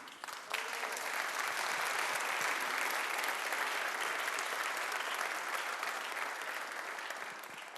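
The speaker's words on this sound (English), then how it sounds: "Je vous demande de l'applaudir." A large audience applauds at the closing ceremony of an international lawyers' congress in Luxembourg, with dense, steady clapping that continues at a loud, even level throughout.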